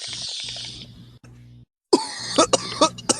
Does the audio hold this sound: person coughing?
yes